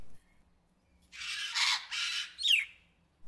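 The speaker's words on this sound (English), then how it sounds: "Sun conure, also known as sun parakeet, is a very colorful parrot" A sun conure, a colorful South American parrot also called the sun parakeet, gives three harsh, loud squawks close by, with the last rising into a shrill shriek.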